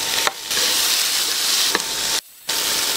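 Tomatoes dropped into a hot pan with onion and garlic give a steady, close sizzling hiss, briefly cut off twice as if the pan is stirred or lifted.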